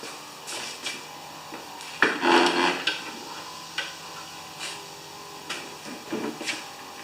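A Husqvarna brush cutter that will not start has its primer bulb pumped by hand, giving a string of soft plastic squeezes and clicks, about a dozen irregular presses, close and quiet with no talk.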